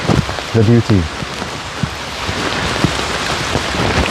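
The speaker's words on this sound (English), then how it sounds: "But I'm wondering how the rain sounds." Steady rain falls outdoors on a calm morning, a dense continuous patter with scattered heavier drops, loud and close to the microphones, briefly joined by a short voice near the start.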